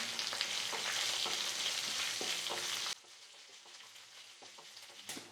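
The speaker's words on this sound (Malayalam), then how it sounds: "കുറച്ച് കറിവേപ്പില, ഒരു ബേ ലീഫ്. ലോ ഫ്ലെയിമിൽ ഇളക്കി കൊടുക്കാം." Dried chillies, curry leaves and a bay leaf sizzle in hot oil over a low flame, stirred with steady scraping strokes; the frying is loud and close for about three seconds, then drops to a quieter crackle.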